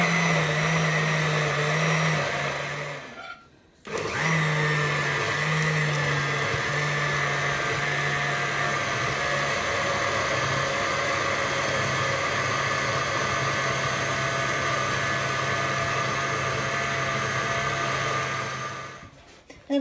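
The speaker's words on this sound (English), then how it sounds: "So I'm just blending it all up" A kitchen blender whirs steadily while blending carrots and celery for soup, a loud continuous motor drone that stops briefly then resumes, running alone until it cuts off near the end.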